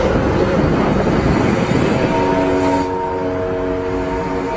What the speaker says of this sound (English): Electricity. This is the sound of electricity.